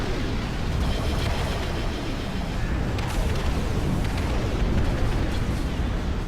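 A Dreadnought blows apart in the strategy game Ashes of the Singularity: Escalation, a sustained roaring rumble of explosions and blasts that fills the scene loudly and evenly, with crackling bursts scattered through it.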